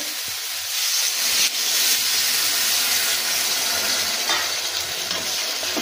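Water poured into a hot pan of fried soybean and potato bursts into loud, steady hissing and sizzling that carries on without pause, with no voices.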